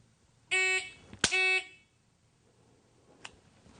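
Two sharp electronic beeps from a shot timer during a dry-fire pistol drill, each about a quarter second long and close together, then a faint click and near silence.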